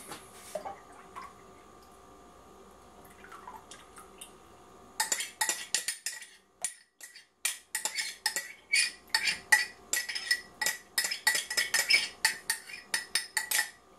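Thinned yogurt-and-milk mix poured into a pot for homemade yogurt and stirred, giving a run of close, rapid clinking and wet scraping strokes after a quiet start with faint background hum.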